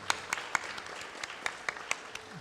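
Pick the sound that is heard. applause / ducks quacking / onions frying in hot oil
applause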